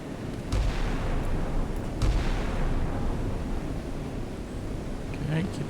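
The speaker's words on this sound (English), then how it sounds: "Come on, get the missiles off." Missiles launch in the Sea Power naval combat game, a steady roaring rush with two sharper bursts near the start and middle, while a player talks over the noise.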